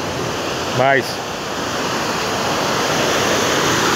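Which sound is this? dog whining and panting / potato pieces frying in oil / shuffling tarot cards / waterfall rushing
waterfall rushing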